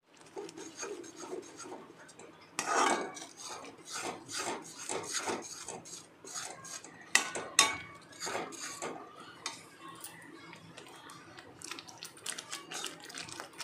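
Bangda mackerel curry ingredients are sautéed in a pan, with repeated scraping and stirring strokes of a spatula against the metal in an irregular rhythm, close up and fairly quiet, with no talking.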